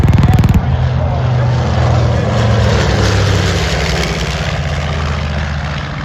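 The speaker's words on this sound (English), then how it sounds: "a medium-range bomber used by the Army Air Corps and by the Navy and Marine Corps" A World War II-era medium-range military bomber built in 1945 runs its radial propeller engines at an airshow, a loud, steady low drone close by that holds throughout with a throbbing rumble.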